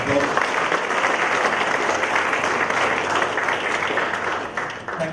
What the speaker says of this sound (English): I request you all to give them a big round of applause.